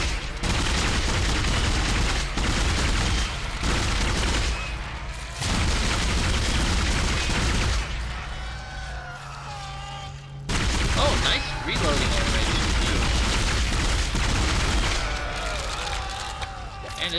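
Enemy gunfire in the sci-fi horror video game Dead Space, dense loud bursts of shots and booms filling most of the stretch, with a brief quieter gap midway before the firing resumes.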